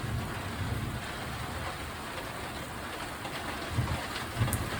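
Storm rain in Wonder Valley, California, falling steadily in a dense hiss of drops with a few heavier splatters, heard close and alone.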